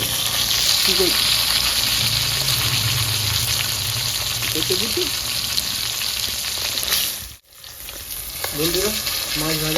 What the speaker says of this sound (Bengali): দই মাছের জন্য ভালো করে কড়া কড়া ভেজে নিয়েছি লাল লাল